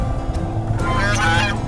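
Geese at an eco tent campsite in Bakkhali honk loudly and close by, several harsh overlapping calls in quick succession.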